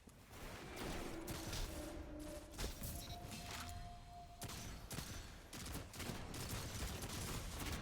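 Shotgun fire in a first-person shooter game comes as a dense run of sharp, overlapping blasts and clatter across about eight seconds, fairly faint overall with short breaks between bursts.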